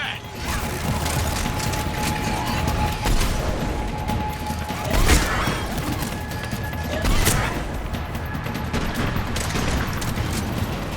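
Sustained cover gunfire in Mass Effect 3 during a tense extraction, a steady mechanical rattle of rapid shots with a couple of louder bursts standing out, continuous and fairly close throughout.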